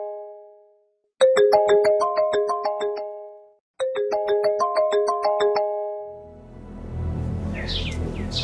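A phone ringback melody plays twice in a clear repeating phrase on an outgoing call, then gives way to a muffled, noisy background with faint chirpy sounds.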